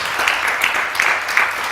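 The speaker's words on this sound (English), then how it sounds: "a round of applause for Uzo." A talk-show audience gives a round of applause, a continuous moderately loud patter of clapping that swells in a few brief pulses.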